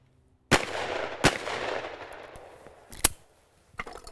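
Shotgun blasts at clay targets on a shooting range, two sharp loud reports about a second apart each trailing a long echoing decay, followed by two more distant, fainter shots.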